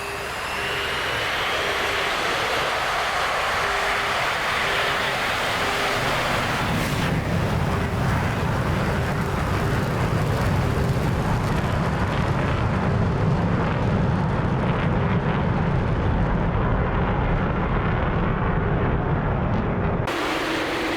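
A Su-27 Flanker jet in the DCS World flight simulator rolls out for takeoff, its engine roar building into a loud, steady rumble with rushing wind noise that holds for most of the stretch before the sound cuts off abruptly near the end.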